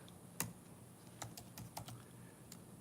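Several separate keystrokes on a computer keyboard as a search topic is typed, sparse and irregular taps, close and fairly quiet, with no talking.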